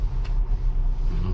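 A car pulls into a parking spot at a hotel in Mecca, its engine a steady low rumble close by with no talking over it.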